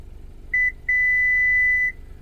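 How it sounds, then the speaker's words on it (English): A short electronic beep is followed by a longer sustained beep, both clear and close over faint background hum, as a Subaru confirms a memory setting. "Now you're going to hear that beep, that input."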